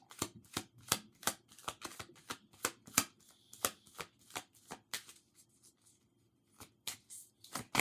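Tarot cards are shuffled and drawn in a run of crisp, rapid riffling snaps and flicks close by, briefly pausing near the end before the card sounds resume.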